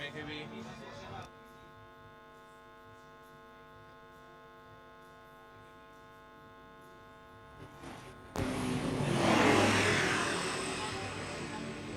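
Super Lynx and Fennec military helicopters hover during a live-fire training exercise, a steady tonal drone holding for several seconds before a louder, broadband rush of rotor and engine noise swells in near the end.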